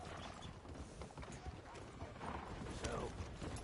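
A horse walks in Red Dead Redemption 2, its hooves clip-clopping in a soft, steady rhythm under quiet ambient game sound, fairly faint throughout.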